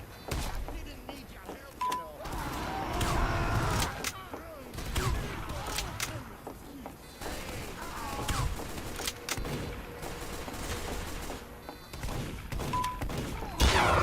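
Repeated bursts of video-game gunfire from a live game stream, sharp shots and thuds scattered irregularly through the clip, mixed with a talking voice and other game noise.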